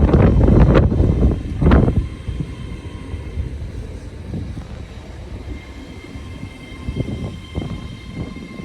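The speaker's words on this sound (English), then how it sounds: "Arriving now is the 1341 Great Western Railway service from Bristol Temple Meads to London Paddington." A Great Western Railway train rolls into Swindon station, a loud rumbling approach with heavy low wheel noise and wind buffeting that settles into a steadier, fainter roll.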